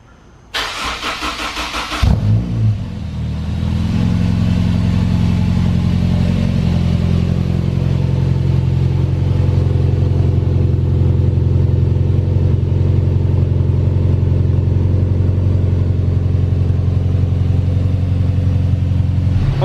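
A Kraftwerks-supercharged Honda S2000 cranks and fires, then settles into a steady, loud, deep idle from engine and exhaust on a dyno, continuing alone for the rest of the recording.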